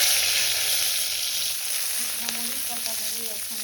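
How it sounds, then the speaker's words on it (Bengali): Garlic cloves dry-frying in an empty pan with no oil give a soft, steady sizzle that fills the whole short stretch, with a few faint stirring scrapes near the end and no talking. "রসুনগুলো হচ্ছে আমি খালি খোলায় এভাবে ভেজে নিচ্ছি"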